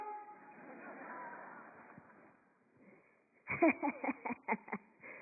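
A person in a lecture hall imitates a train call with a hand cupped over the mouth: a muffled, drawn-out tone, then a quick series of sharp rhythmic bursts, heard faint and narrow-band.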